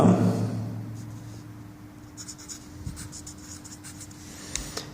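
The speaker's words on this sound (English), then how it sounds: "here I am writing the things that is given in the question" A pen scratching across paper in soft, steady strokes, close and quiet, with faint short scribbles over a low background hum.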